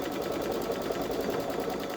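A Baby Lock Solaris 3 embroidery machine stitches out a design, making a steady, rapid mechanical chatter that continues without a break and sounds close and moderately loud.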